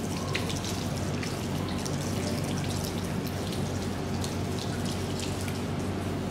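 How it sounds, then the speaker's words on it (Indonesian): Hands and forearms being wetted under a steady stream of running tap water during a handwashing routine before wound care, a continuous close splashing hiss with no pauses. "Lalu kita basahi tangan dari ujung sampai ke ujung siku."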